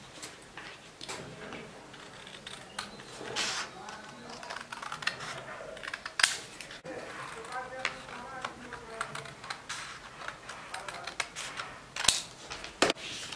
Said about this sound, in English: And cut out these triangles also.